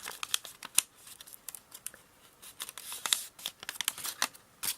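Paper folded and creased by hand for an origami sai, heard as close, faint crinkles, pinches and rustles in short irregular bursts.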